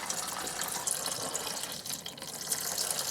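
Coolant draining from a hose on a 2003 Ford F-150 with a 5.4L Triton V8 during water pump removal, a steady continuous splashing, trickling flow heard up close with no talking.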